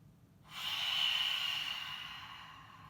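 One forceful open-mouth cleansing exhale with the tongue out during seated yoga: a breathy, hissing rush of air that starts abruptly, peaks, then slowly fades. The breath is close and fairly soft.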